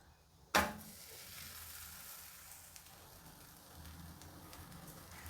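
A curd paratha hits a hot pan with a sudden sharp sizzle, then keeps up a steady soft frying hiss for several seconds, close and fairly quiet.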